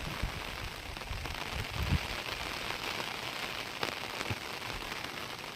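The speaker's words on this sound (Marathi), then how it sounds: "खूप जोराचा पाऊस आलेला आहे" Heavy rain pours down in a steady, dense hiss, drumming continuously on surfaces without pause.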